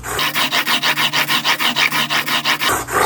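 A fixed-blade broadhead held in a jig is drawn across a 600-grit abrasive in about a dozen even, rhythmic rasping strokes, close and alone.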